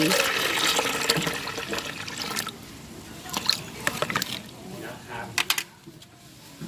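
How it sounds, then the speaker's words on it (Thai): Rice-rinse water, roughly 500 to 600 ml from a small bottle, poured into a mixing container for a milk and rice-water plant hormone, a steady splashing stream that thins into scattered drips and trickles. "หลังจากนั้นเราก็นำน้ำซาวข้าวค่ะที่เราเตรียมไว้ค่ะ ประมาณ 500 หรือ 600มลนะคะ ก็คือน้ำขวดเล็กนะคะ เทลงไปเลย"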